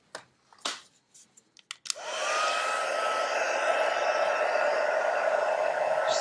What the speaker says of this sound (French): je refais un petit peu de bruit avec le pistolet chauffant